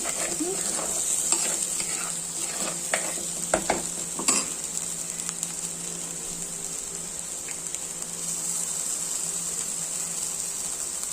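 Pieces of mackerel frying in hot oil with sautéed masala for a roasted coconut curry, giving a continuous close sizzle with a few sharp clinks and scrapes of a spoon stirring the pan.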